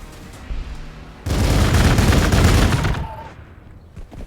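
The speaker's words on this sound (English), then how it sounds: "See how powerful that cannon is." A powerful cannon fires in Warhammer 40,000: Gladius, a sudden loud burst of heavy rapid gunfire lasting under two seconds before fading into quieter background battle noise.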